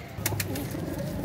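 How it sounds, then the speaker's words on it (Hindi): Hira Lal breed pigeons on a rooftop coo softly in a low, rolling murmur, with a couple of brief flutter-like bursts near the start. "आज हमने अपने दोस्त का मलिक साहब के कबूतरों का आपको शौक करवाया।"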